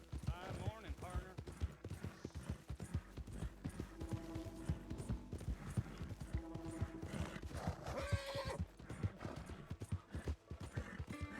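A horse in the Red Dead Redemption 2 video game, its hooves clip-clopping in a steady rhythm up close with several whinnies and neighs mixed in, while a voice talks over it intermittently.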